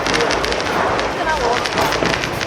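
Firecrackers burst in a continuous, loud, crackling roar at a family Diwali celebration, with dense overlapping pops and no break across the moment.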